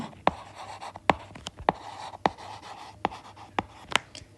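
A pen taps and scratches on paper while a math solution is written out, giving sharp isolated strokes spaced irregularly over a quiet background; close and clear, with no talking.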